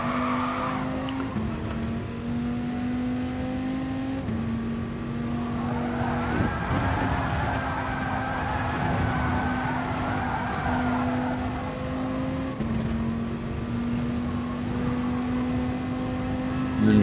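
A race car in a sim racing game brakes hard with sustained tire skidding and squeal over a steady engine drone, the screech swelling in the middle and then fading as the car rolls on, with no talking.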